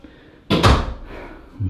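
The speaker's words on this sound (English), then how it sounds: "I'll close the door behind me." A room door swings shut at the entrance of a dim room, a sharp, close thud followed by a brief rattle, with faint room noise around it and a soft sound after.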